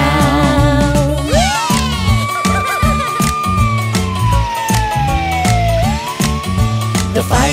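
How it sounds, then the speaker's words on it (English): A rising and falling electronic siren wail, meant as a fire truck siren, rides over bouncy backing music in a children's nursery song, loud and up front. "The fire truck siren goes wee-o, wee-o, wee-o."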